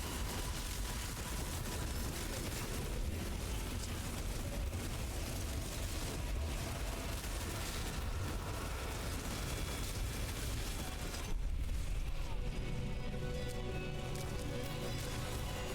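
Corpse explosion skill cast over and over in a Blight build action game, dense overlapping bursts and booms that run together into a loud, continuous barrage.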